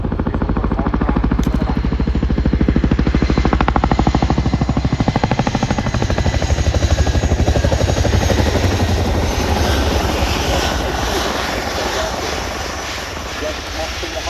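A Chinook tandem-rotor helicopter's heavy rotor thump and engine roar fill the scene at an air display, loud and close, with a voice talking over it throughout.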